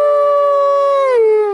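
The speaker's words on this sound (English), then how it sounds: "why do wolves howl?" A single wolf howl, close and loud: a long, sustained tone that holds steady for about a second, then slides downward and fades out.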